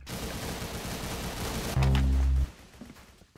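Thumper weapon firing in the Arsenal video game: a steady rattle of gunfire gives way to one loud, heavy, booming blast lasting under a second, followed by quieter shooting.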